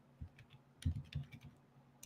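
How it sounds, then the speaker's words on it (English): Keys clattering on a computer keyboard in short uneven bursts, close by, with brief pauses between strokes and no talking. "You can hear me typing."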